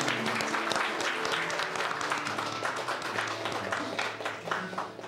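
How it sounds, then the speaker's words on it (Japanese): A church congregation claps together at the close of a gathering, sustained applause with distinct individual claps standing out, a low hum underneath and a slight fade toward the end. "主に、そしてお互いに拍手して終わりましょう。"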